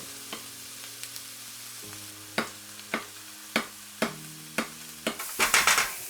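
Onions sizzle in a pan while a utensil scrapes and stirs them in a series of sharp strokes, with steady tonal music behind and a louder sizzle near the end.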